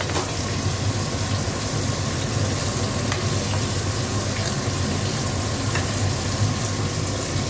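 Pot of dal boiling on the stove as mango is added, giving a continuous bubbling, sizzling simmer at moderate level, with faint clinks, and no one speaking.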